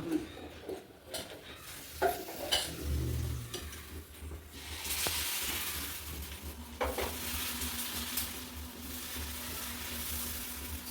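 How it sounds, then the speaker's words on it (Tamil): Dosa batter spreads over a hot griddle with a steady, close sizzle, mixed with light scraping and stirring sounds and occasional clinks of a ladle, and no talking. "கல் சூடாகிடுச்சு. தோசை ஊற்றலாமா?"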